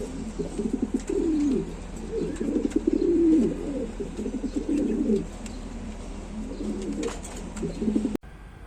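Domestic pigeons, including a breeding pair kept with eggs and chicks, coo in repeated throaty rolling phrases close by, with overlapping calls forming a steady, fairly loud run before a sudden cut near the end.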